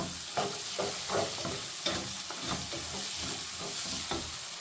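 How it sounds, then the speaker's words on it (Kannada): Onions and chopped green chilies frying in a pan for a masala paneer curry, a steady loud sizzle with rhythmic stirring scrapes roughly every half second, close and continuous, with no talk. "ಕಟ್ ಮಾಡಿ ಇಟ್ಕೊಂಡಿರೋಂಥ ಈರುಳ್ಳಿನ ಇದರಲ್ಲಿ ಹಾಕ್ಕೊಳ್ತಿದ್ದೀನಿ ಚೆನ್ನಾಗಿ ಇದು ಫ್ರೈ ಆಗಲಿ"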